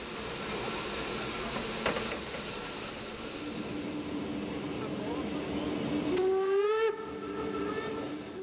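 Streamlined German express steam locomotive 18 201, in its original livery, hisses loudly and continuously on its first run, then sounds a sustained steam whistle near the end.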